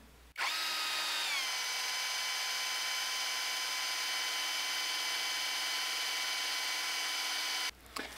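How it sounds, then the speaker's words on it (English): An electric drill drives a drill pump, filling a ram pump's delivery pipe; it whirs steadily for about seven seconds, starting abruptly, dipping slightly in pitch early on, then stopping suddenly; loud and close. "I've got my drill hooked up to the drill pump, and I'm going to fill up that delivery pipe"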